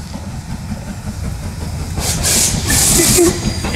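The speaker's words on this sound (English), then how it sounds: "Light engine steam train." Steam locomotive 45231 Sherwood Forester running light engine through Northampton station, a low rumble from the rails building as it nears, with bursts of loud steam hiss toward the end.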